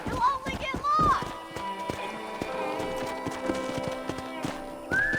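Horse hooves clip-clopping in the video game Red Dead Redemption, a steady close rhythm of hoof beats under a voice calling out, with a short whinny-like cry at the start.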